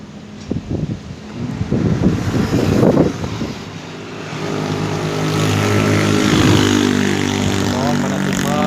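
Strong gusting wind in Pangalengan, a steady roaring rush that swells and stays loud through the clip, with a low rumbling hum and brief bursts of nearby noise early on.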